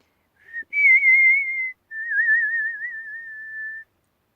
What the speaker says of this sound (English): He whistles a tune to the window.